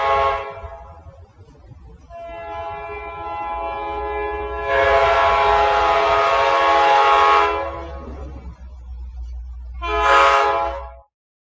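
A train sounds a Nathan K5LA horn in long loud blasts, a short one first, then a sustained chord, then a brief final blast, over a steady low rail rumble.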